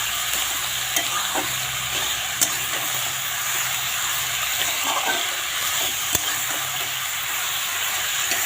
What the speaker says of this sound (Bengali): এখন এটা ভালো করে নেড়ে নেব।